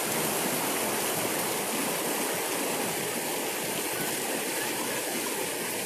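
Fast-flowing water rushes steadily and loudly from a full dam, a dense, continuous roar close by that fills the whole span with no pauses.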